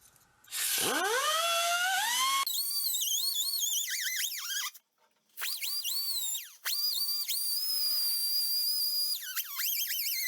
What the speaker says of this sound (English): I'm going to go take a wire wheel. We'll clean all the rust off of here